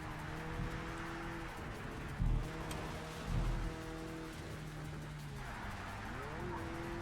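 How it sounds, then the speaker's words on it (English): Car engines in the racing game Project CARS 3 drone steadily with tires squealing in long pitched streaks, over a constant rainy hiss and some low thumps. "The tires squealing in the rain."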